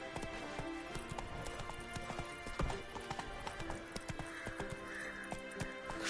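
A horse gallops in The Witcher 3: Wild Hunt, steady rapid hoofbeats drumming up close with an occasional whinny, under a continuous game background bed.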